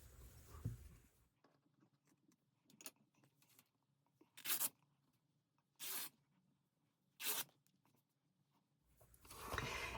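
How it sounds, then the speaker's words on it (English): Paper snippets are cut with scissors for crafting tags, in a few short separate snips and rasps over a quiet room, each brief and close, with soft rustling in between. "So let me cut some more here."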